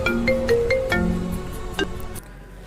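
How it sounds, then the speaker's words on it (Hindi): Phone ringtone with a melodic series of electronic tones that plays loudly for about two seconds and then stops abruptly, with no speech over it. "किसका फोन आ गया यार"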